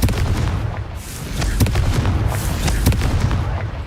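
Confringo fire spell blasts in the Hogwarts Legacy video game, a series of loud, booming bursts and crackling impacts over a dense, noisy battle background.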